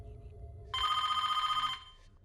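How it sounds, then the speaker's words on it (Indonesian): Telephone ringing in a horror film, a single electronic ring burst lasting about a second, clear and fairly loud over a quiet low background hum. "terdengar suara telepon."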